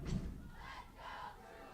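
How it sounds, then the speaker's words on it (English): A crowd at a varsity high school football game on senior day, Santa Clara versus El Camino, roars and shouts together, opening with a dull thump, loud and sustained across the short stretch. "Of course, enthusiastic crowd, enthusiastic cheerleaders."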